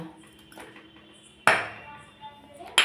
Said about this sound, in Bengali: এবার এই গুড়টাই কিন্তু পুরো এখানে আমি দিয়ে দেব।